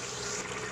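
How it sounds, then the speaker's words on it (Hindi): Water pours steadily into a pressure cooker pot of chicken stew, a brief continuous splashing rush at moderate volume. "अब हम यहाँ पर 1 कटोरी पानी ऐड कर देंगे।"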